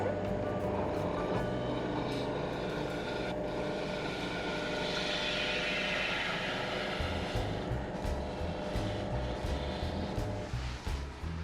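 An apple wood bowl spinning on a wood lathe at 1500 RPM gives off a steady, continuous low rumble and whir with a broad airy hiss, holding at an even level for the whole stretch without talk.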